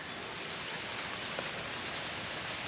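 Steady rain falling outdoors makes a dense, even hiss of drops, close and constant with no talking.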